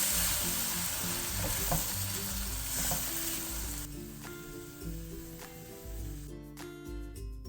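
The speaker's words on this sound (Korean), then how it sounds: "마지막으로 참기름과 통깨를 1큰술 넣어주시고 불을 끄고 슬쩍 뒤적여 주세요" Eggplant stir-fry with sesame oil and sesame seeds sizzles softly in a pan while being gently stirred, with a steady frying hiss and light scraping under background music.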